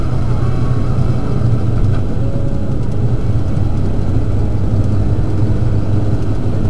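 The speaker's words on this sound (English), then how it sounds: "Watching this big truck make the corner here." A big truck rounds a corner slowly, its deep engine rumbling low and steady throughout, fairly close, with a continuous droning idle-like hum and no talk.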